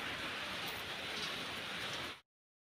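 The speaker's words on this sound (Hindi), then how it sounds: "और मैं बारिश में ही आप लोगों से दिखाती हूँ," Heavy rain pours steadily outdoors, a dense, even hiss close by that carries on without a break and then cuts off abruptly near the end.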